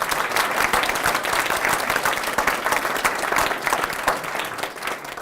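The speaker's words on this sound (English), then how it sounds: "A big hand of applause." A conference audience breaks into sustained, dense applause that holds steady and fairly loud from start to finish with no voices over it.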